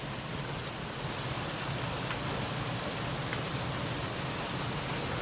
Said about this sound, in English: Ooh, it is raining out here.